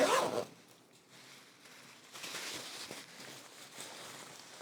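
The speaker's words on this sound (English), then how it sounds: "zip up a bit" A VACOped medical boot is zipped up in several slow, scratchy pulls, close and clear with no one talking, ending in a brief louder tug.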